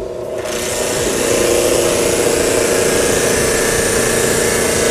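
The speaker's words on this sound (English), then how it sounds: "Now we'll turn the machine on." A G-TEC TTCF-7AR flusher machine with its pump switched on, rising within the first second into a loud, steady mechanical hum and whir that runs continuously without talk.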